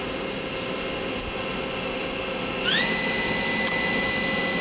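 A Star SV-32J CNC Swiss-type lathe's main spindle whirs steadily, then its tone rises sharply as it spins up to a higher speed and holds a louder, steady whine, with a brief click near the end.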